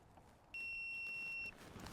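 A digital multimeter in continuity mode gives a single steady beep lasting about one second while probing from a battery's hot side on a Jeep's wiring, clear over quiet background.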